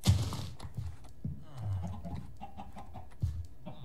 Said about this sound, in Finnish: Toi tosiaan on näkymätön kano.